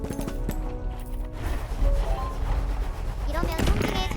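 Cannons fire in a castle-building siege battle in the video game Wander Burg, sharp booms and crashes scattered across the moment while a voice talks over the game sounds.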